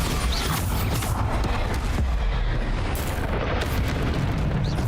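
A Bombarda explosion spell cast in the game The Wizard fires off as a loud, continuous booming blast with a rumbling, crackling body that stays dense and steady from start to finish.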